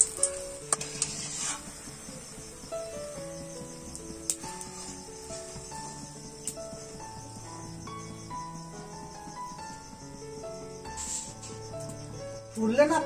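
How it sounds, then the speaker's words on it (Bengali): Malpoa batter fries in hot oil as a soft, continuous sizzle and crackle, close and fairly faint, under music with a few brief knocks and a short scrape near the end. "ওই জন্য একটু লাল লাল করে ভাজছি।"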